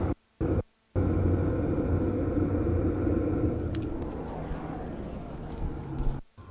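A Vevor diesel heater fitted with a muffler runs with a steady, moderately loud rumble, heard from about a foot above; the low drone holds evenly after a couple of short dropouts at the start.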